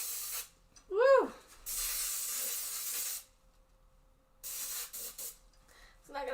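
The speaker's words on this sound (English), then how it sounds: "Okay, it's cooking spray." Baking cooking spray from an aerosol can, released in two long hissing bursts with a third brief one starting, close and loud. A short voiced exclamation comes just before the first burst.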